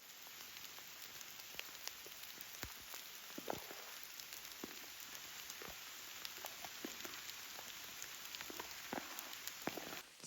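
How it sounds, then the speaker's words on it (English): Light rain falling in woodland, a steady wash of patter with scattered individual drops tapping close by, continuous and fairly soft. "during this slight rain storm"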